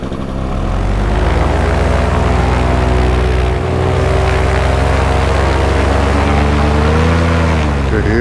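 A small propeller airplane's engine roars at full takeoff power in light wind and low density altitude, a loud, close, continuous droning buzz that holds steady for the whole stretch, its pitch wavering slightly near the end.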